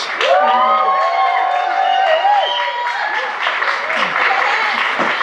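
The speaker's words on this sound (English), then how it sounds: "Give a round of applause, please, to Cey Adams." Art talk audience applauding Cey Adams, loud continuous clapping mixed with cheering and whoops from the crowd, sustained for several seconds.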